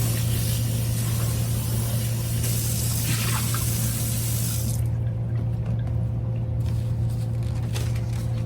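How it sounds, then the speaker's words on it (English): Water pours from a basin into a sink in a continuous splashing rush over a steady mechanical hum, then thins out and trickles. "Now I'm going to empty all the water into the sink, rinse out my basin"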